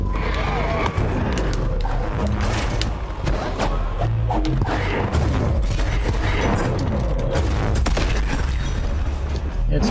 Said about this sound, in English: Stop with the cannon spam!